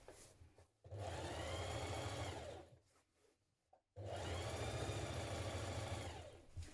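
A sewing machine stitching the side seams of a vintage-style coat skirt, running in two steady bursts of a few seconds each with a brief quiet pause between, close and fairly soft.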